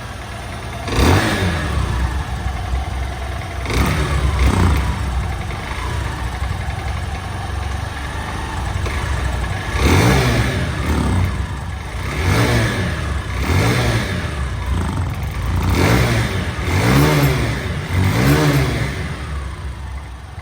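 A 2024 Hero Ignitor Xtec motorcycle, second hand with about 2400 km on a still-new engine, revs loudly and close up in a steady run of repeated throttle bursts over its idle, with no talk.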